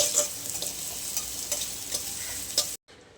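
Ginger-garlic paste sizzles softly in a pan as a spoon stirs it, with faint scraping taps over a quiet hiss. The sound cuts out abruptly near the end.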